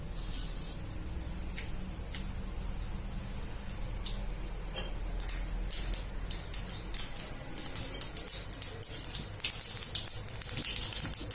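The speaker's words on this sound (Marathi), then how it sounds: "तडते मोरी तडतडते नंतर जिरे टाका" Mustard seeds crackle and pop in plenty of hot oil while making kande pohe, a dense sizzling spatter that grows louder and busier over the second half.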